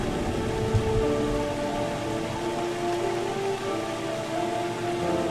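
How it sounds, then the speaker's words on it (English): Steady rain falls in a game world, a dense, even wash of patter that runs unbroken throughout with a low rumble beneath, no voices over it. "It's also raining here."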